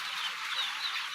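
Chicks about one and a half months old on a country-poultry farm give a brief, soft burst of high peeping chirps, faint and slightly distant.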